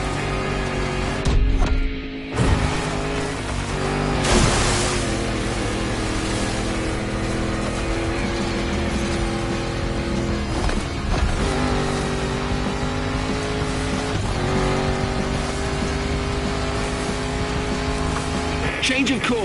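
Engine of a 400-horsepower Land Rover Defender in The Crew Motorfest, a steady loud drone with revving swells and tire noise, running under a speaking voice.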